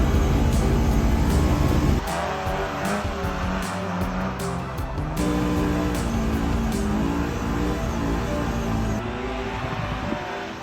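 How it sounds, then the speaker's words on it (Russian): A car drifting, heard from inside the cabin: the engine roars and revs loudly and changes pitch as it drifts, with tire noise, and no talk. "Это был мой первый дрифт изнутри машины"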